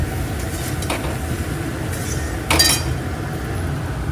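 Fried bread pieces are stirred in a pan over a steady low frying rumble, with a few light clinks of the utensil against the pan and one sharper scrape.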